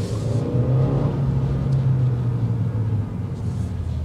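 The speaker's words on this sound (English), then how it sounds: "That way you can hear that throaty exhaust note." A 2022 Subaru WRX accelerating, its throaty exhaust note a steady, loud low rumble held close for about four seconds with no talk over it.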